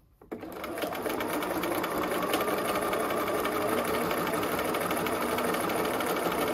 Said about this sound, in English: So we're back to sewing straight now.